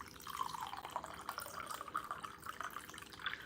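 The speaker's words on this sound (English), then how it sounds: "Just gonna have some water in." Water runs into a cooking pot being rinsed to wash off a stain, a steady trickling, dripping flow close by that continues evenly throughout without talk.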